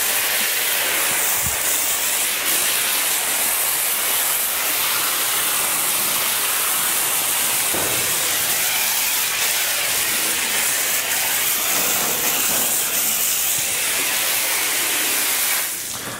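Water spraying steadily onto a slick shorn cattle's coat to rinse out medicated soap, a loud continuous hiss that holds for the whole stretch and tapers slightly at the end.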